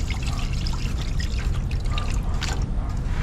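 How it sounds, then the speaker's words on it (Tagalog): Water pours steadily into a cooking pot for broth in a busy kitchen, a continuous close trickle and splash with no break. "Masyadong maraming tubig dahil ipasasabaw natin sa kapsul."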